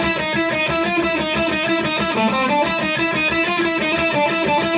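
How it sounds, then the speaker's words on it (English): A distorted electric guitar intro riff alternating B5 and B4 plays steadily with dense, buzzing harmonics and a repeating rhythmic pattern, loud and continuous with no talking. "And then we get this kind of main intro guitar riff, which sounds like this"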